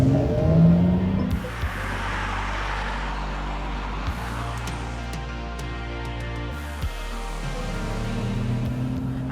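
A Mercedes-Benz EQS 580 4matic electric car, rated at 523 hp, accelerates hard with a rising whine and road roar heard from inside the cabin, broken by a few short shifts in tone.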